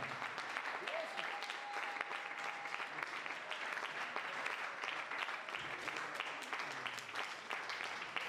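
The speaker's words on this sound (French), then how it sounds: "Est-ce que tu peux acclamer plus fort que ça?" Crowd applause and cheering from a congregation at a church service, a steady dense wash of clapping that holds at the same level throughout with no break.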